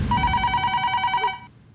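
A telephone rings on an outgoing call, a steady electronic trilling ring of about a second and a half that cuts off abruptly, heard clearly with no talking.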